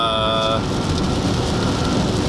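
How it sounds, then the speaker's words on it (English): Heavy rain and hail from a severe thunderstorm pound a vehicle driving on Interstate 35E, a dense, loud, continuous roar, with a brief tonal sound at the start. "We're going to be getting in some very heavy rain and hail right now."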